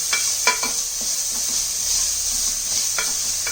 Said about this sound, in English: Keep stirring the onion so that it doesn't stick to the bottom of the pan